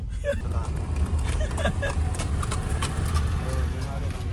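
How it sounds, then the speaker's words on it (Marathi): A tall horse's hooves clop in a steady rhythm over a low rumbling background in Mahabaleshwar, with people talking nearby. "किती मोठा उंच आहे तो घोडा"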